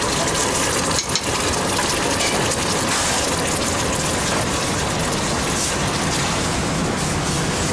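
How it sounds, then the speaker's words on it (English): Veal stock poured into wine reducing in a pan in the kitchen of the restaurant at Wente Vineyards, giving a loud, steady rushing hiss that runs unbroken from start to finish. "as my wine's reducing, I'm going to add a little bit of veal stock"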